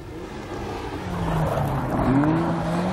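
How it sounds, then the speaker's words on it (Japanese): Race car engine note rising steadily as the car powers out of a corner, a loud, continuous rasping drone climbing in pitch across the whole stretch with some tyre noise underneath. "アクセル入れて立ち上がっていいよ。"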